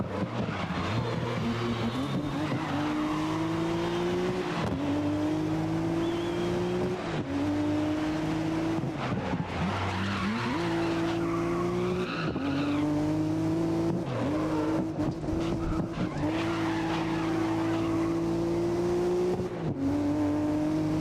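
Race cars roar around a track in the 2019 racing video game GRID, a steady engine drone climbing repeatedly through gear shifts, with occasional tire squeal, continuous and loud.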